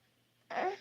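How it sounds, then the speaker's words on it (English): A single short burp bursts out after a near-silent stretch, loud and close, lasting about a quarter second before trailing off. "Burp."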